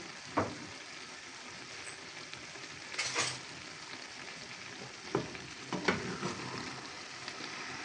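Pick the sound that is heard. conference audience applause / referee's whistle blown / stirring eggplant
stirring eggplant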